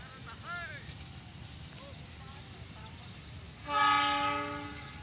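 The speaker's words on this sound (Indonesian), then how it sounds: "nah ini dia kereta api lodaya ya lumayan kabutnya masih ada lah" The horn of the Lodaya passenger train sounds loud and sustained over steady rumbling as it passes through morning fog, preceded by faint chirping and a quiet voice in the distance.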